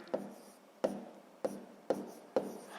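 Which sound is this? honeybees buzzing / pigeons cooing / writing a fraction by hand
writing a fraction by hand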